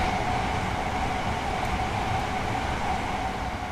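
An IET train passing in a train simulator game, a steady loud rumble and hiss of wheels and motors that holds unchanged throughout.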